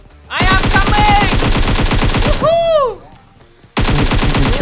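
Rapid AK rifle fire in the mobile game PUBG Mobile: a long automatic burst of sharp, evenly spaced shots, a brief whooshing pause, then another burst starting, loud and close.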